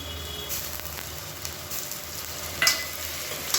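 Onion and ginger-garlic paste sauté in hot oil in a pan for a Tamil chicken kuzhambu, giving a faint steady sizzle with light stirring scrapes and a brief clatter near the end.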